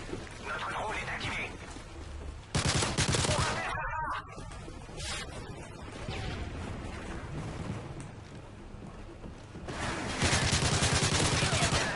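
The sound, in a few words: gunfire bursts in Call of Duty video game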